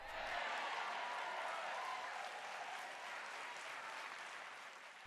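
A sermon audience applauds at length, a thick, steady crowd clapping that slowly thins and fades toward the end.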